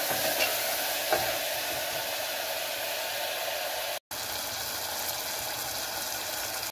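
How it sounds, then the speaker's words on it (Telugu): Onions and tomatoes fry in a pan for a mutton curry, giving a steady loud hiss of sizzling with faint stirring, broken by one brief dropout near the end. "ఆనియన్స్ బాగా వేగాక టమాటాలు, టమాటాలు వేసుకుని మనం మిక్స్ చేస్తాం."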